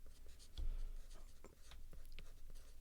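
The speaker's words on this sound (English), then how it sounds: "I'm writing it down." Quiet scratching of hand-written notes, close and faint, with short pen strokes in an irregular rhythm over a low background hum.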